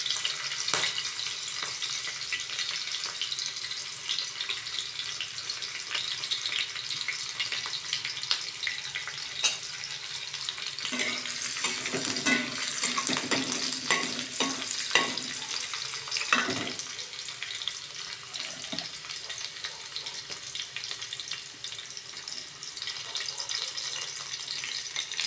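Green chillies and finely chopped ginger frying in a hot pan while cooking wheat-flour noodles, a steady close sizzle running throughout, with a burst of stirring and scraping clatter partway through.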